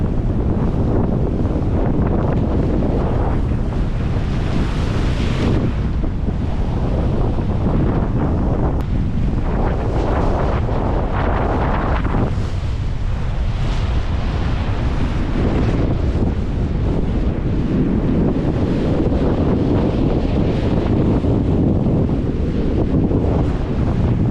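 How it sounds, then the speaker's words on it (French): Strong wind roars steadily across the microphone aboard a solo sailboat on the Atlantic, with confused, choppy seas slapping and rushing around the hull after a wind shift, loud and continuous with no voices. "La mer est très désorganisée parce que le vent a tourné, donc ça fait des vagues un peu dans tous les sens."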